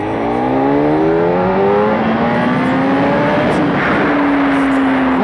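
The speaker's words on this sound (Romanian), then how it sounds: "În momentul în care tragi accelerația," A motorcycle engine revs hard as the throttle opens, its pitch climbing steadily and loud, close up over constant wind rush.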